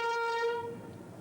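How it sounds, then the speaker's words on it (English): Two heavy diesel locomotives crossing the Norwich Trowse swing bridge slowly give a loud, clear horn blast that cuts off partway, leaving a faint rumble behind. "This is done in the time-honored way of running a heavy train across slowly and gently."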